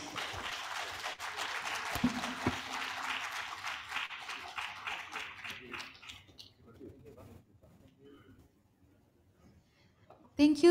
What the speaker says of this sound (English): I would like to invite to give a big applause for our 4 panelists.